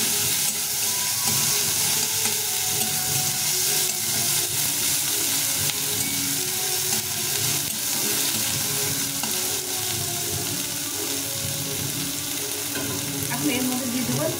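Crushed garlic and chopped onion frying in hot oil, a continuous loud sizzle with occasional stirring scrapes throughout.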